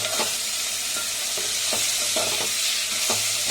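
Tomatoes frying in a pan with moringa leaves, a continuous bright sizzle broken by repeated spatula scrapes every half second or so, close and without speech.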